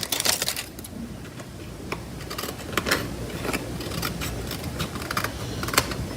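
Paper being trimmed for a handmade Valentine card, a run of sharp, quick clicking cuts and crisp rustles close by, no talk.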